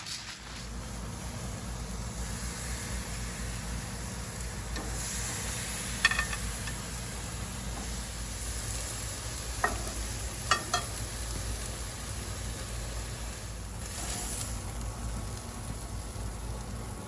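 Seasoned lamb chops sizzling on an outdoor grill, a steady crackling hiss like light rain with a few sharp pops and ticks scattered through it.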